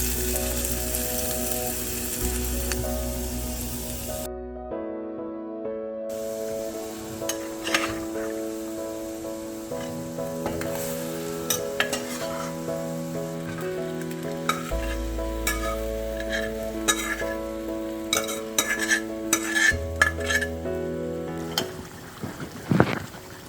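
Mutton curry with African bitter leaf juice, salt and Indian spices cooks in a pan while a spoon stirs it, giving repeated scraping and soft sizzling under steady background music.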